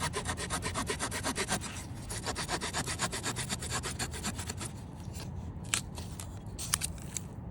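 A knife scraping and shaving a wooden bow drill stick, rhythmic close rasping strokes that repeat steadily, then slow into scattered cuts and sharper single notching clicks, with no speech.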